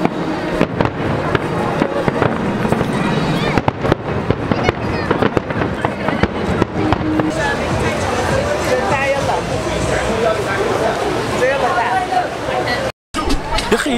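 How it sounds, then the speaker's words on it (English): Fireworks crackle and pop continuously in a dense outdoor barrage at Global Village in Dubai, with a lively crowd chattering and murmuring underneath. "they got fireworks going on and off."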